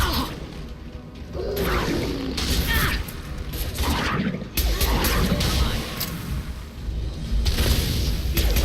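Gunfire and explosions ring out in the video game Mass Effect 2, with bursts of crashes and booms over a dense, rumbling battle background that stays at a steady level.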